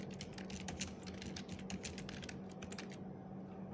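Fingers type steadily on a computer keyboard while a document is being formatted, giving a dense run of quick, close clicks and key taps for several seconds with no voices.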